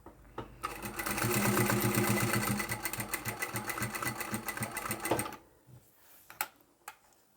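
Sewing machine running fast in a long continuous burst while stitching a chapstick holder, then stopping. A few short, sharp taps and clicks follow as the work is backstitched and adjusted.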